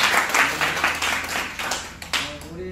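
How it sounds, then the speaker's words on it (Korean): Applause welcoming a village head at a Korean village feast and live concert: a crowd of hands clapping steadily for a few seconds, with some voices mixed in underneath. "박수로 환영하겠습니다."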